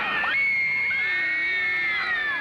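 A huge crowd of 30,000 in Adelaide cheers and screams for the Beatles, a dense wall of high-pitched shrieks sustained loudly and continuously throughout.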